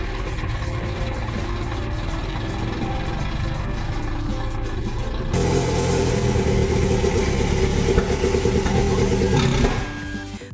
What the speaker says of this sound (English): he kept trying, and finally, he woke the engine that had been sleeping for years.